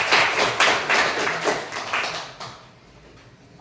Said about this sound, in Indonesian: Oke, tepuk tangan dulu untuk Aris.